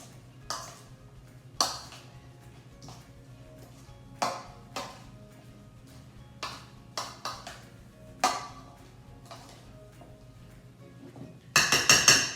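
A spoon clinks against a bowl while mixing salad, sharp scattered taps spaced every second or so, with a quicker flurry of clatter at the end, close and fairly quiet with no talking.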